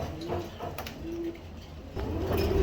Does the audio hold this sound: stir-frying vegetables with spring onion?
no